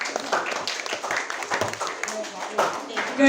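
Scattered clapping from a class of students in an elementary school classroom, uneven and fairly light, with voices and chatter mixed in around the claps.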